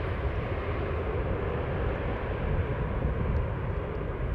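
An EasyJet airliner arriving from Edinburgh on the Polderbaan runway at Amsterdam Schiphol gives a steady, broad engine roar, constant and alone throughout.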